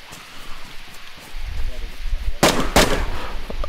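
Gunfire in the DayZ video game, with two sharp loud blasts about a third of a second apart near the end, over a low rumbling background of ambient game noise.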